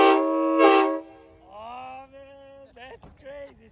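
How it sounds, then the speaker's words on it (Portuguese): A truck horn gives one loud, brassy blast of about a second, and then voices are heard talking close by. "a buzina, porque toda criança ama a buzina"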